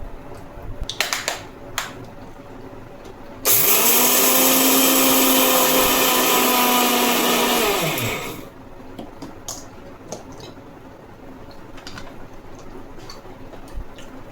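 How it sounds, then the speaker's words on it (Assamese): A mixer grinder grinds sugar into fine powder in its jar: a loud, steady motor whine starts abruptly, runs about five seconds and winds down, with quieter handling clicks and taps before and after. "চেনিখিনি মই ধুনীয়াকৈ একদম মিহি কৰি গ্ৰাইণ্ড কৰি ল'ম"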